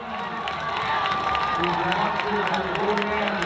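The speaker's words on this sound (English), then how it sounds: "Listen to this crowd. They love Henry Timmons." A high school football crowd in the stands cheers for a running back, Henry Timmons, making a sustained mid-level roar with bursts of yelling, while an announcer talks over it.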